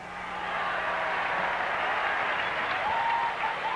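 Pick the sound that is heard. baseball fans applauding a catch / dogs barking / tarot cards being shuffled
baseball fans applauding a catch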